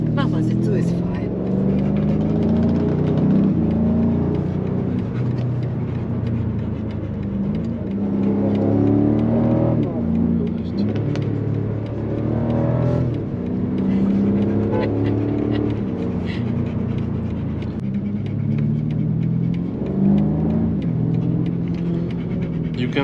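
A BMW M5 CS accelerates around the Nürburgring, its engine note rising and falling through repeated gear pulls in a loud, close, in-cabin roar, with talk heard over it.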